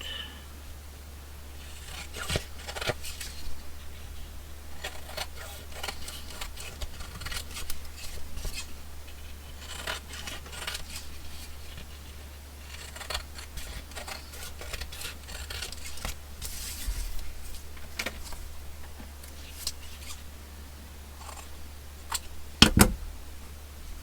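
Scissors trim paper ephemera for a junk journal, a run of short crisp snips and rustles at close range over a low steady hum, ending with a sharp clack, no talk.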